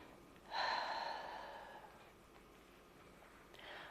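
One deep, breathy inhale swells up and fades, followed by quiet, with a fainter breath starting near the end.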